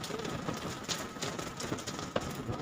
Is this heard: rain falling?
yes